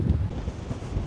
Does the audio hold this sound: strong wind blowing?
yes